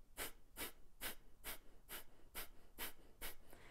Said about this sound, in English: the Kapalabhati breathing, is essentially taking in a decent amount of air, nostril breathing only